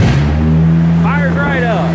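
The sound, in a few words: race car engine starting up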